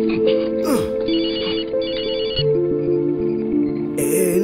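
A telephone rings with a repeated electronic ringtone pattern, loud and close, layered over a background music score with sustained tones.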